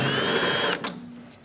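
A power tool with a 10mm socket spins off a nut from the rear exterior door handle of a Chevrolet Express 2500 van, a short high whine lasting under a second and then cutting out, close and fairly quiet.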